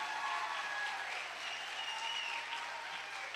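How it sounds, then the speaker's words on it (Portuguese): A church congregation applauds during a parish Mass homily, with sustained, even clapping from many hands across the room. A voice rises faintly above it at moments. "Aplauda mesmo, aplauda mesmo,"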